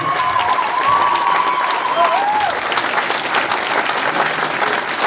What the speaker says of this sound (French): Plus fort les applaudissements pour cette jeune demoiselle.